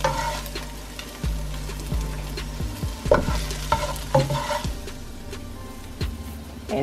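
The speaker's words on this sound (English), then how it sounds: "we've been cooking this okra about 5 minutes, which is long enough" Okra frying in a pan for smothered okra with shrimp and sausage, a steady close sizzle broken by repeated stirring scrapes and clanks of a utensil against the pan, with no talking.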